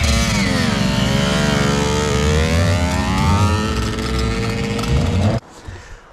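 A fully built Mazdaspeed6 engine with a huge turbo runs loud and close, a rich droning roar holding steady for about five seconds before cutting off abruptly into quiet.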